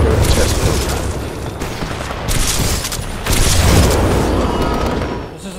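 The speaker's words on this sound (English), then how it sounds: "This is like a far out shotgun." Shotgun blasts in Titanfall 2 gameplay, a few heavy booming shots with rumbling tails, loud and close over game noise, with a voice faintly present.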